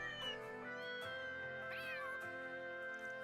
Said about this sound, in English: It plays a collection of cute cat sounds I recorded in the capital.